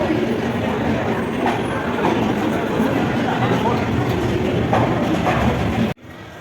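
Train arriving at a station in India, a loud continuous rumble of wheels and carriages, close by and steady for about six seconds before cutting off abruptly, with people talking in the background.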